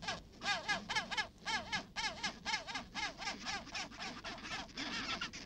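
Chinstrap penguins calling on a beach on Penguin Island in Antarctica, a series of harsh, rhythmic braying cries repeating in quick bursts, fairly close and faint overall.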